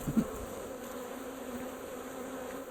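Honey bees buzz in a steady, close drone during the removal of a wild hive in the bush, with a brief louder burst at the start and no talking.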